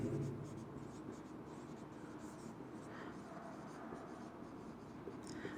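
A marker or chalk scratches across a board during a chemistry lesson. The scraping strokes are faint and close, come in short runs, and sit under a soft, low voice.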